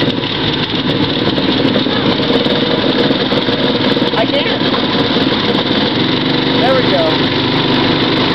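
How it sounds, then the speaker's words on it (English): A go-kart engine labours steadily up a hill during a kart race, a continuous buzzing mid-pitched drone with no letup, wind and track noise blended in, and voices faintly mixed under it. "we're go-kart racing. And we aren't going up the hill very fast."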